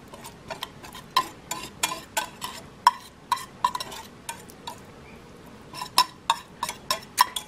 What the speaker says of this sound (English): Stir that all in.